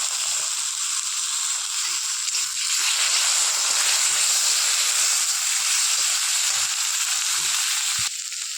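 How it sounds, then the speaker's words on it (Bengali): Sliced onions browned in oil with ginger-garlic paste just added, frying with a loud, continuous close sizzle and hiss that holds steady for the whole stretch. "এরপরে দেখো আমি পেঁয়াজটা একটু লাল লাল ভাজা হয়ে গেছে, অল্প করে আদা রসুন বাটা দিয়ে দিলাম।"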